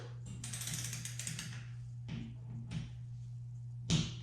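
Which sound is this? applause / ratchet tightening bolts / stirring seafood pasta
ratchet tightening bolts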